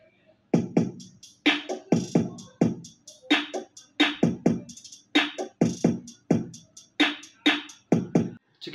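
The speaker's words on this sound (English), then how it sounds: "And after all that, I made the drums." A programmed drum beat for a produced song plays on its own, with punchy kicks and crisp snares and hats in a steady, driving rhythm throughout, loud and close with no vocals.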